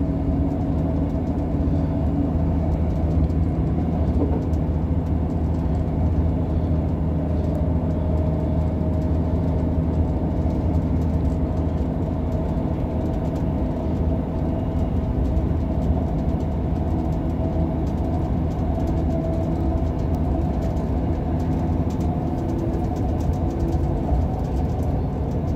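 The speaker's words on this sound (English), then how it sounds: "Train journey back to my hometown of Scunthorpe, which goes via Barnetby" Inside a Class 158 diesel train, unit 158863, travelling to Scunthorpe via Barnetby in the evening: a constant loud low rumble and engine drone with steady rail noise throughout, no voices.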